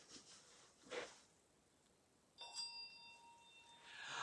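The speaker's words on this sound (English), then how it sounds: "I begin by sounding this bell" Two clear strikes of a ritual bell opening a healing rite, each ringing out with a bright, sustained shimmer, the second stronger and longer, set against quiet surroundings.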